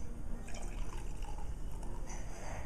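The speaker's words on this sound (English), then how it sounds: "what we would do is just pour half of the glass" Champagne is poured into a glass, a soft, close trickle and fizzing liquid sound that runs quietly and continuously for a couple of seconds.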